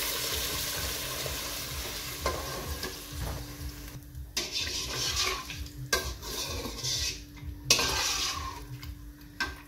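Yakhni meat stock poured into a pan of frying lamb and yogurt, a soft continuous sizzle with stirring scrapes and clinks of a utensil against the pot, fairly quiet and free of talk.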